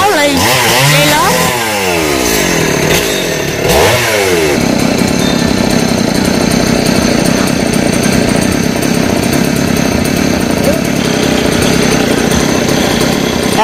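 A chainsaw cuts through a large golden oak tree beside a village communal temple in the Mekong Delta. The saw revs and whines in rising sweeps, then settles into a loud, steady, close cutting roar that lasts to the end.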